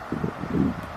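An outdoor gust of wind, heard during a conversation about Seattle graffiti, as a short soft broadband rush with a low rumble that swells toward the middle and fades, with no talking.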